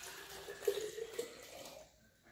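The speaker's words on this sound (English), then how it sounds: "We're going to add 2 cups of distilled water to this mason jar." Two cups of distilled water pour into a glass mason jar, a faint steady trickling stream with a rising tone that stops abruptly near the end, with no talking.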